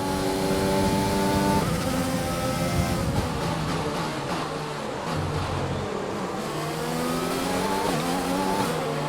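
Formula 1 race cars in F1 2020, the Jordan car among them, roar together on the final lap, several engines whining and shifting pitch up and down at once as the pack runs close, loud and continuous.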